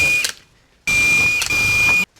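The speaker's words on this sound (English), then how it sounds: "drill on through all of my holes" A small 1/8 inch bit drills locating holes into a steam engine tender, two loud, steady high-pitched whining bursts with a short pause between and an abrupt stop.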